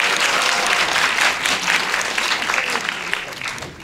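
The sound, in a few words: audience applause at a premiere stage greeting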